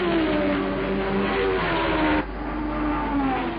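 1967 Formula One race cars at the French Grand Prix roar loudly and steadily past, engines howling at high revs through a wooded section, with a shift in tone about two-thirds through as one car gives way to the next.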